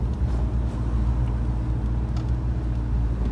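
A 1965 Ford Mustang convertible cruising down the road, its engine a steady, loud low rumble with road and wind noise, continuous and close throughout.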